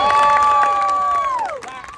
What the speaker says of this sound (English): Everybody give this guy a big round of applause.